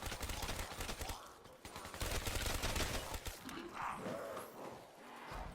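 Rapid video game gunfire at zombies, a dense rattling stream of shots with brief gaps, fairly close and continuous over several seconds.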